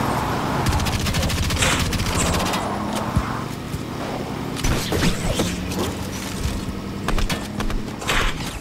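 Rapid bursts of automatic gunfire in Fortnite crackle close and loud, firing in repeated volleys with brief pauses between clusters of shots.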